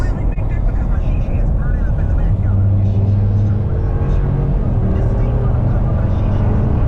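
A truck's 5.7 engine roars steadily at a car wash, a loud continuous low drone with shifting pitch as it revs, close by and filling the whole stretch.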